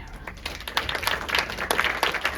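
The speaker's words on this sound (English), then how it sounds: "if we could give a round of applause to" A panel discussion audience breaks into a round of applause, dense scattered clapping filling the room steadily for a couple of seconds with no voices over it.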